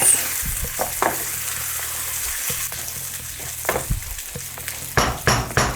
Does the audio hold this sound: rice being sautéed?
yes